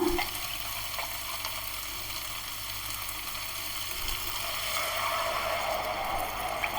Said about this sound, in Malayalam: ഞാനിപ്പോൾ വെള്ളം ഒഴിക്കാൻ പോവാണ്